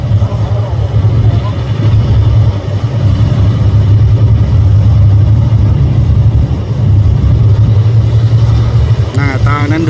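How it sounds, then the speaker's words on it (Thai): A heavy diesel locomotive engine roars steadily at close range, a deep rumbling throb with rising revs, loud and continuous throughout, at the Bang Sue curve in Bangkok. "เสียงอัดเครื่องมาเลยครับ"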